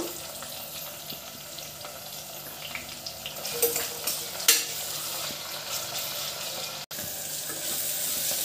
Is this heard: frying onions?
yes